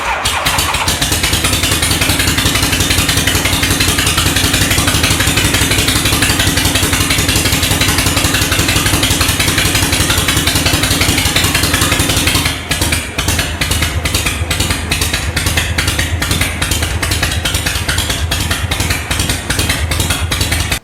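A vintage Harley-Davidson Superglide FXE shovelhead runs loud and close on its own fuel supply, a steady thumping engine roar that turns choppier and uneven toward the end, with no talking.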